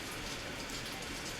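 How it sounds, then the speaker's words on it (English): Steady rain falls outside, a dense even hiss of drops with no breaks and no talk over it, heard as ambience for a tabletop role-playing game. "Now it's a little rainy outside."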